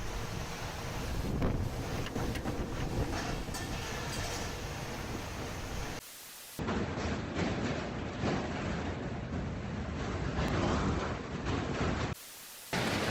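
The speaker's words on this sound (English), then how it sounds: "See how strong winds lift the tree from the ground as if it were nothing." Strong storm winds during a tornado in a city, heard as a continuous loud roar buffeting the microphone, with rushing gusts and brief drops where the sound cuts out.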